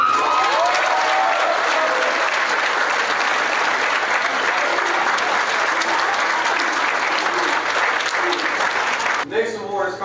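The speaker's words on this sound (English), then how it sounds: "Give a round of applause for our special teams MVP, Marcus Johnson." Banquet audience applauding a special teams MVP award winner at a high school football banquet, sustained loud clapping and crowd noise for nearly ten seconds, with a few voices under it before it cuts off.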